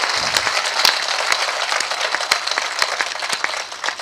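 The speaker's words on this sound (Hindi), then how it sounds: "तो एक बार जोरदार तालियां उठाइए सब लोग जाग के।" A crowd at a live Hindi poetry recitation gives sustained, energetic applause: a dense wash of clapping with sharper individual claps standing out, holding steady throughout.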